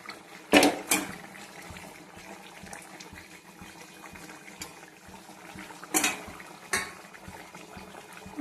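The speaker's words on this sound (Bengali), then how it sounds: "আমার কষানো হয়ে গিয়েছে, এখন জল দিয়ে দেবো অল্প। এখন মাছগুলো দিয়ে দেবো।" Water and pieces of fish going into a pan of spiced cooking masala, heard as a couple of loud splashing pours near the start and again around the middle, with quieter kitchen clatter and faint simmering between them.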